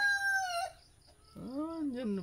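A free-range heritage hen makes drawn-out calls in a chicken yard, two close vocalizations separated by a brief pause, the second lower and wavering like a cluck.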